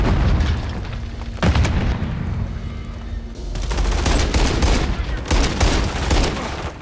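Heavy combat from Call of Duty: a grenade blast booms amid sustained rapid gunfire, with dense overlapping shots and explosions, loud and continuous throughout, and a faint voice buried in the din.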